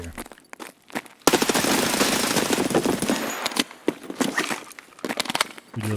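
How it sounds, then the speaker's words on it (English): Bursts of automatic rifle fire in Escape from Tarkov: a long, loud, rapid stream of shots after a quiet opening second, then scattered shorter bursts and single cracks trailing off, with no talking. "We do a little bit of suppression fire."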